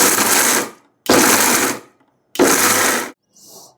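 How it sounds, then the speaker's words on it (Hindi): A mixer grinder whirs loudly, grinding chutney with salt, hing and jaggery powder in three separate bursts of about a second each, divided by short silences, with a faint final pulse at the end. "ये सारा जो है हम डालेंगे और वैसे ही ग्राइंड कर लेंगे"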